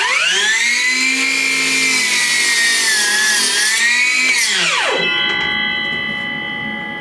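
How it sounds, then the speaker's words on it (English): A Metabo miter saw running on a DeWalt FlexVolt battery cuts through wood: a loud, close, whining motor tone that dips as the blade bites, then winds down and fades after about five seconds. "So I'm using a DeWalt battery, a flex volt battery, in this Metabo miter saw."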